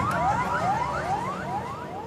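A loud, rapidly rising electronic wail repeats in quick sweeps, sirens cycling amid car horns over a steady rumble of traffic in Libya.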